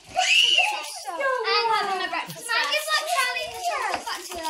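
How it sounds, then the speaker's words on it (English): A young girl screams and shrieks playfully during a Christmas Eve Secret Santa present opening at home, loud high-pitched cries that rise and fall over a few seconds, mixed with childish vocal sounds. "She's just casually screaming."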